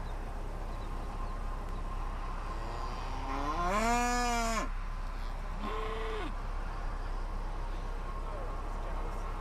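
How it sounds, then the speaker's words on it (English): Cattle in the Texas Panhandle moo during an evening storm chase, one long, loud call and then a shorter, fainter moo, over steady wind and rumble with no voices. "We got some cows here serenading us with their beautiful songs."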